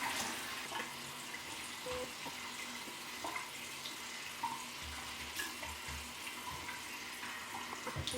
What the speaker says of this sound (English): I'm gonna rinse it again with some warm water